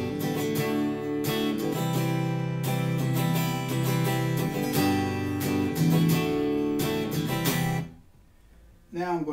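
An electric guitar played through a Blackstar HT-Club 40 tube amp with the tone knob turned fully counterclockwise, strummed chords and picked notes ringing loud and dark for several seconds before stopping, then a brief final strum.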